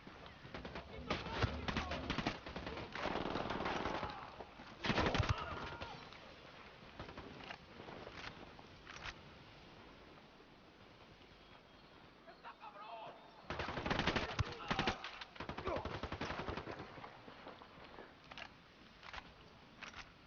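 Automatic gunfire in the Ghost Recon Wildlands open beta, rapid bursts in two main clusters separated by quieter stretches with scattered single shots, fairly distant and muffled, with occasional voices.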